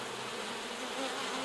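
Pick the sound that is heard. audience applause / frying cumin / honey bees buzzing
honey bees buzzing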